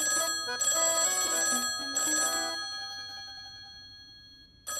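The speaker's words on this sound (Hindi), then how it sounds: "नैना, जाके फोन उठाना, मम्मी नहीं तो चिल्लाएंगी और उन्हें तो सिर्फ मौका ही चाहिए।" An old-style telephone bell rings loudly in two bursts, then its tone fades away with a brief click at the end.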